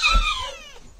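A small kitten cries out in a single loud, drawn-out meow, the call falling and fading over about a second, close by with no talk.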